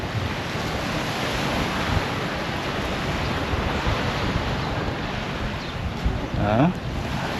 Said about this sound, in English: That's the Indian Ocean right there.